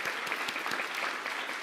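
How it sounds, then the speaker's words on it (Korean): Steady applause from a church audience at an autumn concert, dense clapping that continues evenly throughout with no voices over it. "우리 다 같이 다시 한번 힘있게 박수로 환영하도록 하겠습니다"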